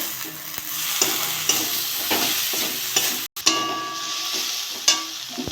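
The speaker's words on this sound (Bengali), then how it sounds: "মশলাটা কষে নেবো" Ground spice masala with cumin powder, Kashmiri chilli, salt and chopped tomato sizzles steadily in hot oil while a spoon stirs and scrapes the pan in repeated strokes, close and continuous with a brief pause.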